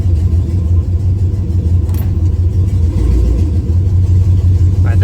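A swapped-in LS1 V8 in a 1966 Chevy C10 runs in reverse gear with the truck up on jack stands, giving a loud, steady low rumble at idle that stays constant throughout.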